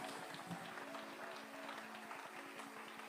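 A church congregation at a French-language service applauding and cheering, a dense steady wash of clapping heard faintly and at a distance.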